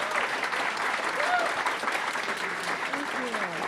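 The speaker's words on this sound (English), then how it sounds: "Let's give them a round of applause." An audience applauds panelists at the close of a Vietnamese diaspora artists' discussion, with sustained clapping and some voices mixed in across the whole stretch.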